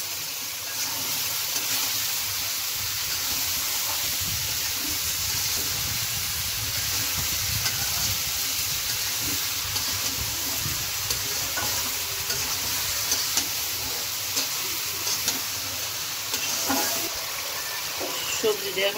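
Ridge gourd and boiled potato fry in spice paste, giving a steady, close sizzle with stirring scrapes throughout and faint talk underneath.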